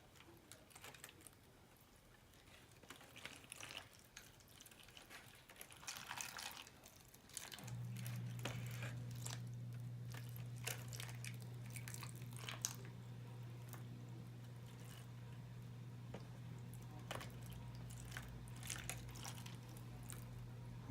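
Water is poured over seed-starting discs in a tray for a garden seed start, giving soft squishing, trickling and scattered drips, with a steady low hum joining partway through.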